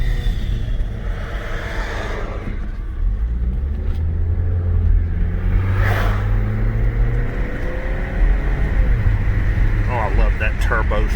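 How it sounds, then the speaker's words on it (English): Saab 9-3 Sport Combi wagon's turbocharged engine pulls under acceleration, a steady loud rumble with rising whine as the turbo spools, heard from inside the car with a voice talking over it. "That turbo spool."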